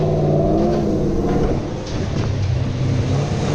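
A 2010 Chevrolet Camaro SS engine roars loudly at high revs on a dyno, the pitch holding and briefly dipping before climbing again, continuous and close.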